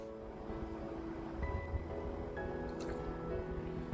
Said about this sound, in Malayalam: ഇനി ഇത് ഈ മോൾഡിലേക്ക് ഒഴിച്ചു കൊടുക്കാം.